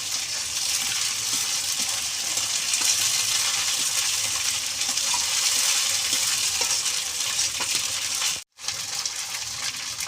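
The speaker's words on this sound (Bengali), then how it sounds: "আমি এবার রসুন দিয়ে দিচ্ছি। এটা কিছুক্ষণ ভেজে নেব।" Garlic frying in hot oil in a pan while a mutton curry is being cooked: a steady, dense sizzling hiss that continues throughout, broken by a brief silence near the end, with no talk.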